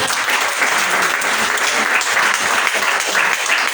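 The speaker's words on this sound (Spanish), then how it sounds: "Dale aplausos fuertes al Señor." A church congregation claps loudly and continuously, a dense, even wash of many hands applauding together with no break.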